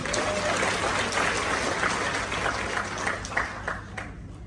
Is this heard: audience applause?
yes